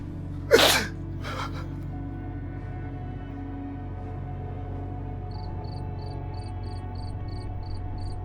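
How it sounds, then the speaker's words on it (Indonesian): A cricket chirps with an odd, strange quality in a quiet room, short evenly spaced high pulses in the latter half, preceded by a loud sharp sneeze near the start over a low steady hum. "Jangkrik kok aneh banget ya?"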